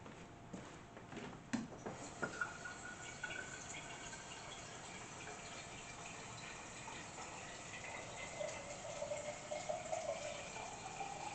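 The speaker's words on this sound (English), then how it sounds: "I'm going to use quite a bit of water because I like mine really soupy." Water pours continuously into a pot of soup beans, a steady close rush whose pitch slowly climbs as the pot fills, with a few clinks early on.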